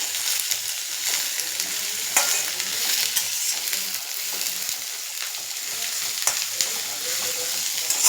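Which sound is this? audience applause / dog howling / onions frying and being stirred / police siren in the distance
onions frying and being stirred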